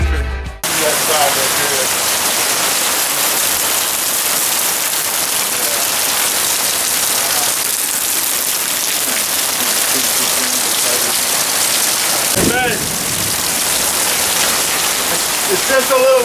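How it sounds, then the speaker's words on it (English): Dense, even hiss of rain falling steadily on Broken Bow Lake in July, continuous and close throughout, with a brief knock near the start and another burst of noise later. "It's just a little rain."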